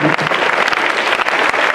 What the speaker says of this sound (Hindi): ये ताली की गड़गड़ाहट लेकिन जोर से नहीं हुआ